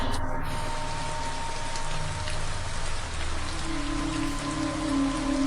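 Steady heavy rain pours onto surfaces outdoors in a drama scene, a dense, continuous hiss that stays loud and even throughout, with no clear voices over it.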